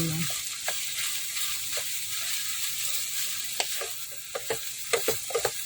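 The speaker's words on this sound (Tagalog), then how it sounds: "Ngayon, isama natin siya dun sa paggisa." Santol sautéed in a pan, a steady close sizzle broken by sharp scraping and stirring clicks that grow more frequent toward the end.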